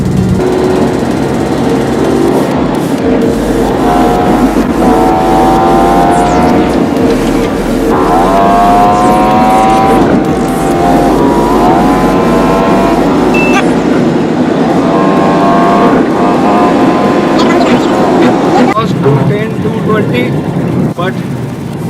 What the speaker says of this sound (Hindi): बट अब इसके बाद कार तो नहीं रुक रही, रुकने का नाम नहीं ले रही कार